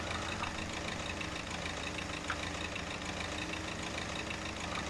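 A small tractor engine idles steadily and continuously nearby, a constant mid-to-low rumble with no changes in pace over a few seconds.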